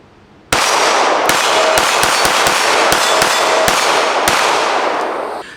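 A Springfield XDM Elite OSP pistol fires about ten sharp, loud shots in an uneven rapid string at close range, each crack standing out above a steady background roar, with no talking.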